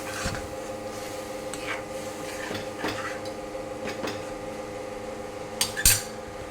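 A spoon stirs amti with red chili powder in a metal pot, making soft scraping and rubbing sounds with a few light clinks. A sharper clatter comes near the end, over a low background hum.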